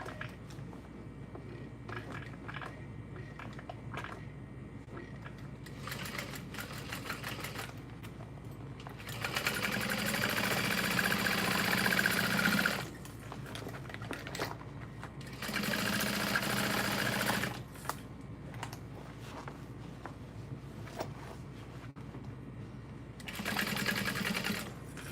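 Sewing machine stitching along the top edge of a fabric bucket bag, running in several bursts of a few seconds each, separated by quiet pauses, close and moderately loud.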